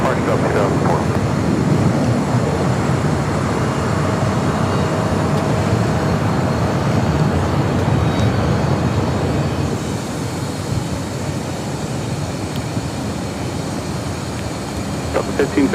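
Airliner jet engines at Los Angeles LAX, a steady broad roar that holds for the whole stretch and eases slightly partway through, with air traffic control radio chatter running over it.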